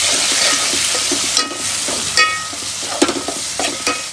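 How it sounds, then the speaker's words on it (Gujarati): A spoon stirs chopped tomatoes into browned onions frying in a pan for a cashew gathiya curry, giving a steady sizzle broken by several scraping strokes, loud and close, with no voices. "હવે ત્યારબાદ આપણે નાખવાના છે ટમેટા ટમેટાને પણ સરખા આપણે એક પ્રેસ કરી દઈએ મિક્સ કરી દઈએ"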